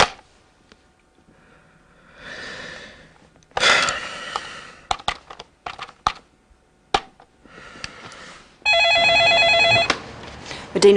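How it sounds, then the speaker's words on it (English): A telephone rings for a call, a loud, bright electronic ringing burst near the end, preceded by scattered clicks, handling sounds and quiet breathy noises. "Now, he's going to make a phone call."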